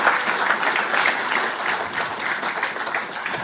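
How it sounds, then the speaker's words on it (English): A crowd at the official opening ceremony of a police divisional headquarters in Gros Islet, St. Lucia, applauding steadily. The clapping is dense and continuous, moderately loud, and stays even throughout. "St. Lucians, give them a round of applause"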